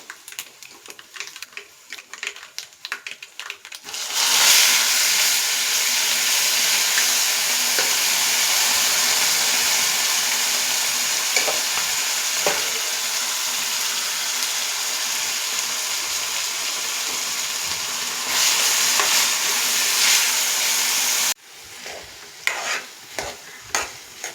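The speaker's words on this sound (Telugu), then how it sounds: "పోపు అంతా చక్కగా వేగిపోయింది. ఇప్పుడు తెల్లపిండి కూర వేస్తున్నాను." Telagapindi curry (sesame-cake curry) stirred and fried in oil with tempering, a steady loud sizzle running about seventeen seconds with scraping stir strokes, framed by quieter kitchen clatter before and after.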